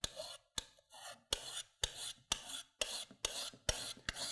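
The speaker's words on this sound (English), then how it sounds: "So what you would want to do is to just take a file or something, a draw file," Rhythmic rasping strokes of a draw file across aluminum to remove anodizing, about nine evenly spaced scraping passes each ending in a sharp onset, close and clear with no speech.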